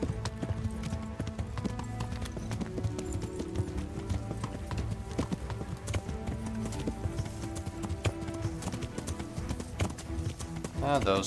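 A horse's hooves clip-clop steadily in the medieval video game Kingdom Come Deliverance, a continuous rhythmic gait running under background music and someone talking.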